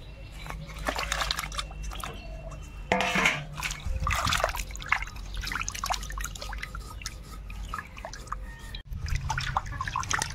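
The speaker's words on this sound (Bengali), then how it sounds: "মাছগুলোকে সুন্দরভাবে ধুয়ে নেব।" Pieces of shol fish washed in water in a village kitchen, with close splashing, dribbling and dripping sounds that rise and fall over about ten seconds, a brief pause near the end and no talking.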